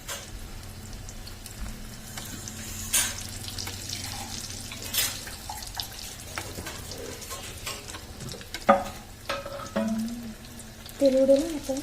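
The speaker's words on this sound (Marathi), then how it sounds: "त्याच्यात आपण मस्त डीप फ्राय करून घेऊ" Colocasia leaf mutkule deep frying in hot oil in a small kadhai, a steady low sizzle and bubbling with occasional clinks and stirring, fairly faint and without voices.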